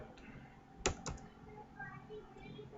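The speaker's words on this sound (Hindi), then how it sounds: "मैं कीबोर्ड यूज कर रहा हूँ" A couple of sharp computer keyboard key clicks close by, one louder than the other, with a low background hum and faint voice in a quiet room.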